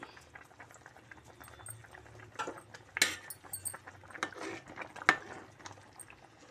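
Fish curry simmering in a pot, a soft low bubbling bed with scattered small clinks and sharper ticks, quiet and close, no talk over it.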